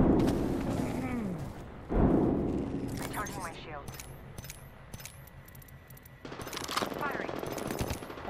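Automatic weapon fire from an Apex Legends match, with short bursts of shots and sharp cracks over in-game sounds while a player talks over the action.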